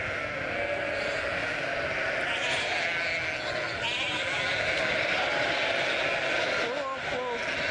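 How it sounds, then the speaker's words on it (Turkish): About 700 lambs and 700 ewes bleat all at once as the lambs seek their mothers, a dense, continuous clamor of overlapping calls close by. "700 kuzunun sadece birkaç saniye içinde 700 koyun arasından annelerini bulduğu o muhteşem an."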